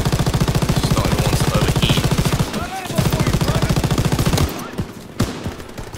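A mounted machine gun in Call of Duty WW2's D-Day campaign firing long rapid bursts, a steady hammering rattle that pauses briefly, resumes, then stops, leaving scattered distant gunfire and battle noise.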